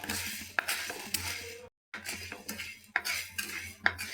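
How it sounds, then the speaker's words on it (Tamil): Quarter cup of urad dal dry roasting in a pan for temple-style tamarind rice powder, a spoon scraping and stirring in repeated bursts with a brief silent gap midway, close and moderately loud. "கால் கப்பு உளுத்தம்பருப்பு, இதே பொன்னரமாக வறுத்துக்கலாம்."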